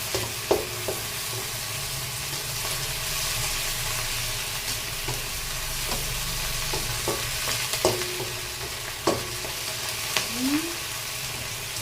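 Mushrooms frying in a pan for an egg omelette: a dense, even sizzle with a low steady hum beneath and occasional light taps and scrapes from stirring, no speech.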